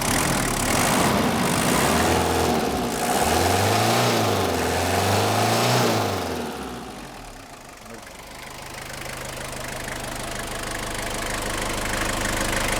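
A 1987 Toyota Blizzard 4WD with a 2LT turbo diesel engine, loud and close, rising and falling through repeated revs before dropping back to a steady knocking diesel idle.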